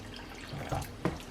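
Water poured into a pan of turkey mince and prawn curry on the stove, a short soft splash and trickle over a steady kitchen hiss, no talking.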